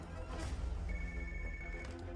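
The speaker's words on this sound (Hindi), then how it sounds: "सोफिया, तुम एएलएक्स ऑफिस को फोन करो" A telephone rings in a dubbed action film scene, a steady electronic ring sitting under a dense, loud music and ambience bed for about two seconds.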